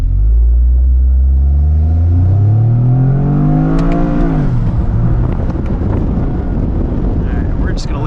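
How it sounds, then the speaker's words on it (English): A Toyota GR Corolla held in first gear in manual mode accelerates hard, its engine note climbing steadily for about four seconds before a shift-like drop, with heavy wind and road noise inside the cabin. "GR Corolla, we're gonna select manual mode and see how that treats us."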